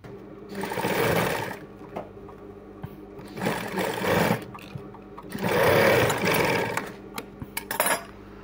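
A sewing machine stitching a latkan tassel runs in three loud, close bursts of rapid mechanical whirring, separated by short pauses filled with faint handling clicks.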